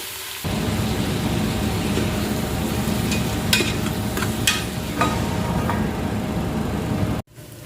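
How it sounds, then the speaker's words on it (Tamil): Onions sauté in a pot for mutton biryani, giving a steady, loud sizzle with a few sharp clinks of stirring, which cut off abruptly at the end. "இப்போ வெங்காயத்தை சேர்த்தாச்சு வெங்காயம் நல்லா தொண்ணூறு சதவீதம் அளவுக்கு வதங்கணும்"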